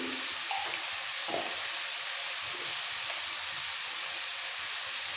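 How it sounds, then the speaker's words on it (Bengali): Potato and papaya pieces stirred in hot oil with salt and turmeric for a vegetarian papaya ghonto, a loud continuous sizzle with occasional scraping strokes of the spatula. "একটু তেলের মধ্যে নাড়াচাড়া করে দিয়ে দেবো"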